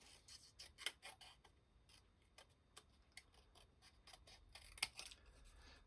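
Scissors cutting a printed paper quote, heard as faint, irregular snips and crisp clicks spread across a quiet room.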